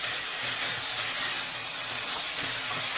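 Rice sautés in a hot pan, a dense steady sizzle and hiss close by with faint stirring scrapes, and no voices over it.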